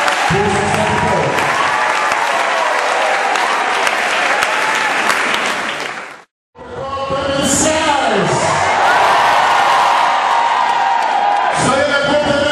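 Congregation at a Pentecost church service in Abobo, Abidjan, bursts into loud, sustained applause with whoops and cheers, breaks off briefly, then claps and shouts again, voices mixed into the crowd.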